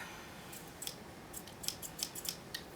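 Crisp metallic snips of scissors cutting hair, several quick cuts in an irregular rhythm, close up against a quiet background.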